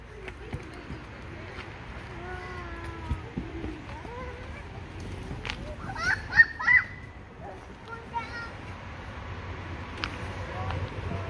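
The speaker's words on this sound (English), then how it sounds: "It's a pretty bird, huh?" Fowl calls at a petting zoo, short honking notes scattered through a busy outdoor scene, with children and adults talking over and around them.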